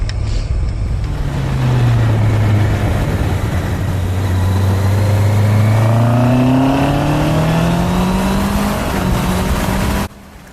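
A Honda CBR650R sport motorcycle engine revs hard and accelerates through the gears, pitch climbing repeatedly as it pulls away, loud and close, then cuts off.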